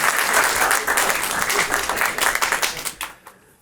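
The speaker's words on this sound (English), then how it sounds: "Please welcome them with a round of applause." A round of audience applause welcomes two founders and CEOs at an evening event, dense clapping that thins into scattered claps and then fades.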